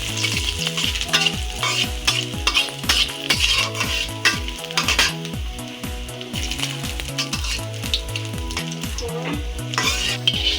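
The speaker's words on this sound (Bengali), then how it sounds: "এখন সম্বার দিয়ে দিচ্ছি" Spices tempering in hot oil with ginger for moong dal with bottle gourd produce a loud, continuous sizzle, overlaid by brisk, rhythmic stirring scrapes and clinks of a utensil against the pan.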